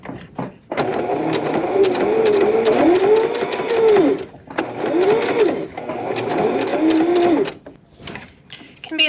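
A sewing machine stitches the folded hem of a woven T-shirt in steady whirring runs with a fast mechanical chatter. It pauses briefly twice between runs, and a voice talks over it.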